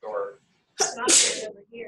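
A single sharp, close sneeze bursts out between bits of casual indoor speech, with a person talking just before and after it.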